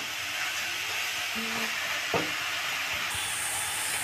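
Grated carrot halwa roasting in ghee over a medium flame, a steady soft sizzle and hiss with a faint stir or scrape partway through.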